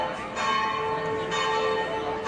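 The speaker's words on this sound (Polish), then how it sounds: "akurat biją dzwony." Church bells ringing in Split, Croatia, heard from a ticket queue among old Roman ruins: sustained ringing tones with strikes recurring about once a second over a faint crowd background.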